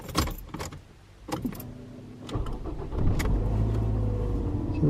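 Keys jangle as they go into the ignition of a 2008 Ford Mondeo, a few metallic rattles up close, followed by a steady engine hum.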